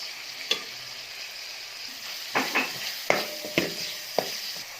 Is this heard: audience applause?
no